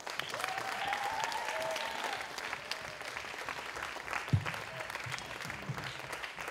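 Audience at a youth spoken word poetry showcase applauding a poet, steady clapping at moderate distance with a faint voice and a brief knock partway through.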